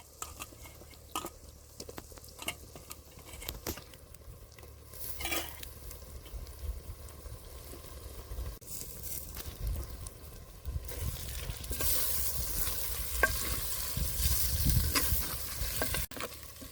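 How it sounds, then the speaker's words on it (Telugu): Tomatoes with turmeric fry in a pan, with spoon stirring and clatter, and the sizzle grows louder and hissier toward the end. "పసుపు వేసుకుందాం టమాటాలు వేసుకుందాం కొన్ని"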